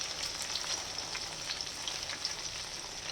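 Fenugreek seeds and asafoetida frying in ghee for a Telugu tamarind curry make a steady, close sizzle with a fine crackle that holds evenly throughout, with no voices over it.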